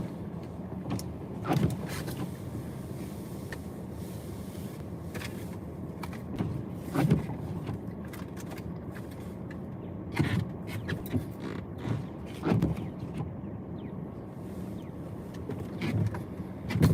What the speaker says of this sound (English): it slightly expands the exhaust pipe so that it then begins to rub on the axle